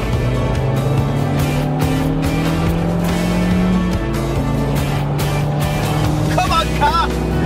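A Seat Leon Cupra K1 drives on a valley road. Its engine drones steadily and loud inside the cabin, with rising revs, road roar and faint tire noise, while voices talk and cheer over it.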